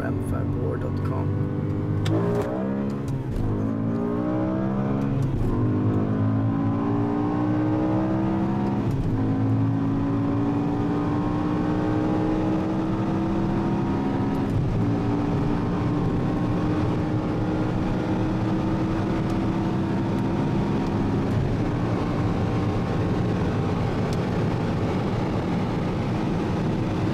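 A BMW M5 Touring and a Nissan GT-R race side by side, their engines droning and revving loudly with rising and falling pitch sweeps throughout, people talking over the steady roar.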